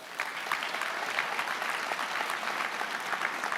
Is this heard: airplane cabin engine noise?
no